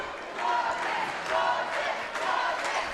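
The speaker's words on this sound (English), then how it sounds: "looks like we've got the Dawson chant from the crowd" Crowd at a boys' varsity high school basketball game chants a player's name in a rhythmic pattern, three swelling repeated calls filling a gym, loud and sustained.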